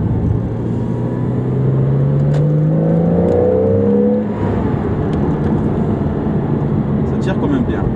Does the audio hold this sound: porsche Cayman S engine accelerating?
yes